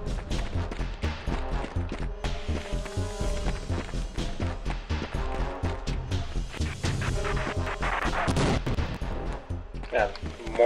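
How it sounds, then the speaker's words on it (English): Mortar and gunfire in the video game Half-Life: Opposing Force come as a dense run of sharp, repeated booms and cracks with crashing impacts, steady and fairly loud throughout. "Mortars or something."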